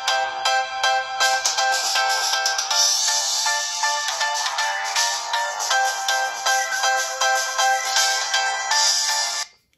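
Loud, bright polyphonic ringtone melodies from a 2010 Nokia X3-02 Touch & Type phone at maximum volume, a steady run of tinkling tones playing continuously with no talking and cutting off abruptly at the end.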